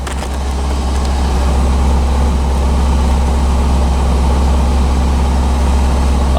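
1985 C4 Corvette engine idling up close, a loud, steady low rumble that holds even throughout with no breaks or revving.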